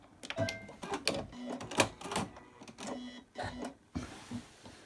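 An overlocker sewing machine stitches a fabric cover in short, uneven mechanical bursts, chattering and stopping repeatedly before a softer hiss at the end.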